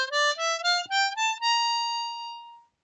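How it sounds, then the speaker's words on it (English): A Lydian diatonic harmonica plays a scale of clean, reedy single notes rising in steady steps, ending on a long held tone that fades out, solo and close. "what we have is a Lydian diatonic harmonica, and it sounds like this."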